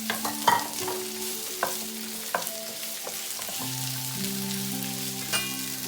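Bell pepper (capsicum) frying in a pan for chilli paneer sizzles steadily, with sharp spatula scrapes and stirring clacks at irregular intervals, close up and with no talk.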